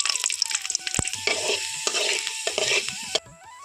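Dried red chilies and garlic cloves crackle and sizzle in hot oil, a steady close fry broken by stirring scrapes and a sharp tap, with no voices over it.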